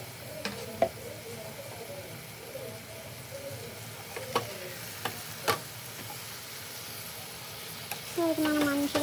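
Dal being stirred and mixed in a pot while cooking, a soft sizzle under a few scattered scraping and clinking knocks of the spoon, with a brief voice-like sound near the end.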